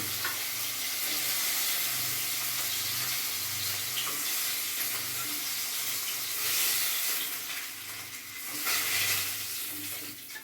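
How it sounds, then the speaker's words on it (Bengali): Pieces of katla fish shallow-fry in hot oil, giving a steady, close sizzle and hiss with soft bubbling pops throughout, swelling slightly now and then. "এটা আমি একেবারে শ্যালো হালকা ফ্রাই করবো মাছগুলো"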